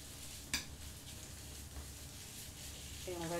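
Sausage meat with onion and tomato sautés in a pan on a stovetop, giving a faint, steady sizzle, with a brief clink near the start and a short tonal sound at the end.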